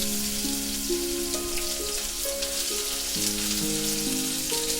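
Onions and fenugreek seeds frying in oil for a fish kuzhambu: a continuous loud sizzle sits under sustained musical tones from background music, with no speech.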